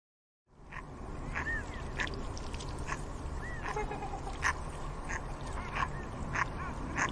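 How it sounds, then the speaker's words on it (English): A swan gives repeated short honking calls, moderately near, over a steady outdoor background of water and wind. "swan"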